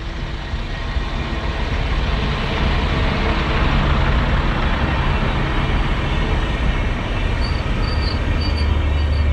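A railway multi-purpose vehicle passes on the line near Edwinstowe at sunrise, a steady broad rumble of wheels and engine holding loud throughout, with faint high squeals near the end.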